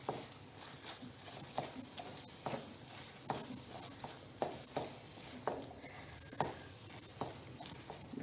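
Carrot halwa cooking in ghee in a pan, with a steady low sizzle and repeated soft scraping strokes of a spoon stirring at a regular rhythm, heard up close.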